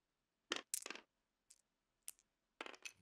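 Dice rolled onto a table during a competitive tabletop miniatures game, heard as a few quick rattling clatters in separate bursts, near and fairly quiet, with no talk.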